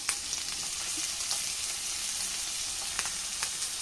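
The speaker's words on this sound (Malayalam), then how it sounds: "നമ്മളായ ഉള്ളിയും വേപ്പിലൊക്കെ നല്ല പോലെ ഫ്രൈ ആയി വരുമ്പോൾ നല്ല ടേസ്റ്റ് ഉണ്ടാവും" Onions and curry leaves fry in hot oil for a Kerala-style fish fry, a steady close sizzle with faint crackles and a few brief pops, no voices.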